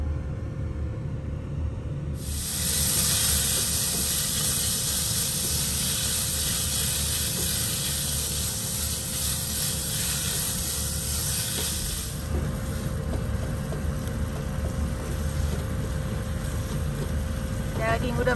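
Minced meat with chili frying in a pan for breakfast in a camper van at a rest area, a steady loud sizzle lasting about ten seconds over a low background rumble, with someone talking.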